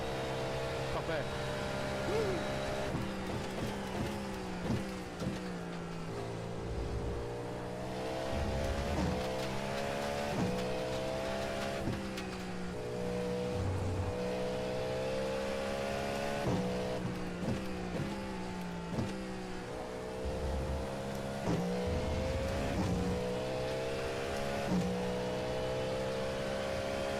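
Sports and Formula cars lapping in an iRacing-style sim racing game, including a Ferrari nearby, with steady engine drone that rises and falls through shifts and revs, heard underneath someone talking throughout.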